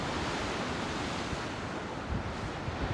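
Black Sea surf breaking below a coastal viewpoint at Gagra, a steady broad wash of waves mixed with wind buffeting the microphone, with no voices.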